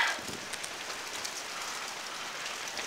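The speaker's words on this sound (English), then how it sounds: "it's still going pretty good out here, but there's the hail" Rain and hail pour down during a severe thunderstorm in Oakland, a steady dense hiss of drops pattering on surfaces, moderately loud and continuous, with no voices.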